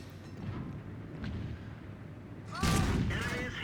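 Tank gun fire in World of Tanks, heard as a dull rumbling background followed by a sharp, loud cannon blast with a ringing tail near the end, with no talking.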